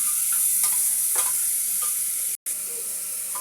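Meat frying in hot ghee with whole garam masala inside a pressure cooker, giving a loud, continuous sizzle with a few stirring scrapes and one brief cut-out near the end.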